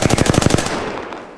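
Enemy automatic gunfire in Apex Legends rattles as a loud, fast, evenly spaced burst of about ten shots, then breaks off and leaves a fading echo tail.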